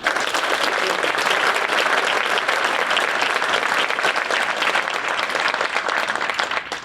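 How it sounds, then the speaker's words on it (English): A large audience at an Air Force 11th Wing change of command ceremony applauds, producing a dense, sustained wash of clapping that stays loud and even for several seconds before easing slightly at the end. "maybe give another round of applause for that."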